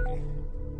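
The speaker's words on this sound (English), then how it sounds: "That's the phone call." Telephone dialing tones in the video game Orwell, a brief steady run of tones over a constant electronic hum, with no talk.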